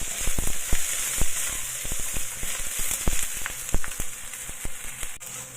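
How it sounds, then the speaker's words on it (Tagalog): Aromatics for pork adobo fry in a pan with a bright, continuous sizzle, broken by frequent sharp pops and crackles and the odd scrape of stirring, close and steady throughout. "i-fry na lang natin hanggang sa maging lumabas yung aroma ng ating ingredients"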